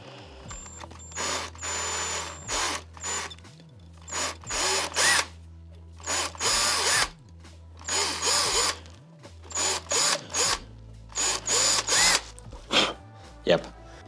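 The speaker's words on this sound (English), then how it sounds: "Okay, so I could just use my step drill here, open those up very carefully." Bursts of a power drill driving a step drill bit through holes, repeated short runs with pauses between them, close and fairly loud, some with a thin high whine and a rising-and-falling motor pitch.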